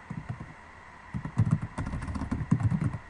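Keys clatter on a computer keyboard as a command is entered, a close run of irregular, muffled taps with brief pauses, set over a low steady hum.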